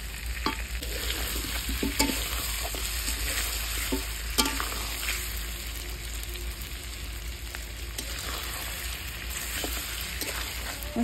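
Meat and radish curry is stirred in a pan just after water goes in, with a steady sizzle throughout and scattered scraping clinks of the spoon against the pot.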